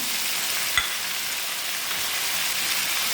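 Grated coconut stirred into a frying pan of jackfruit-seed stir-fry, a steady broadband sizzle holding throughout with one brief scrape or clink near the start, no voices.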